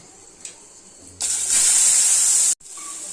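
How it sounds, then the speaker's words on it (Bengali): Potatoes drop into hot oil left from frying fish, setting off a loud, sudden sizzling hiss that holds steady for over a second before cutting off and resuming more quietly. "এই তেলের মধ্যেই আমি আলুগুলো দিয়ে নেব। আলুগুলো দিয়ে, যে মাছ ভাজা হয়ে গেছে, আলুগুলো দিয়ে ভেজে নেব।"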